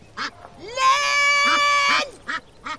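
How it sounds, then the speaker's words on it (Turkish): A duck in a village setting gives a run of short, nasal quacks around one long, drawn-out honking call, loud and close. "Ördek mi ördek?"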